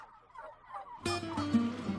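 A strutting wild turkey lets out a single loud, bubbling gobble after a second of quieter background, close and rattling with a descending warble.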